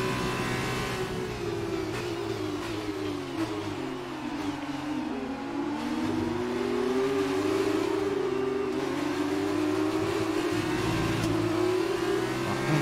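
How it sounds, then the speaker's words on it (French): An F1 car accelerating in the racing game F1 2019, its high-revving engine whining loud and close with a steady rising and falling pitch across shifts, uninterrupted throughout. "On fait une bonne accélération"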